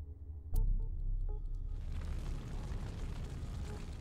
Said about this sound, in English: I always have to go through fucking explosions in this game.